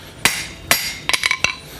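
A hammer strikes a hot copper bar of 1/4 by 1 stock while forging a spatula, giving about six sharp ringing blows: two spaced hits, then a quick cluster of four.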